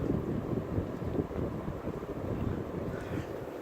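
Casablanca Lady Delta 42-inch ceiling fan running on high, a steady low whooshing rush of moving air with buffeting rumble, close to the microphone and continuous, without talk.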